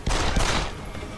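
Gunfire in the video game Deus Ex: Human Revolution, a loud, close burst of shots that cracks out sharply and then rolls into a sustained echoing roar, with no talking.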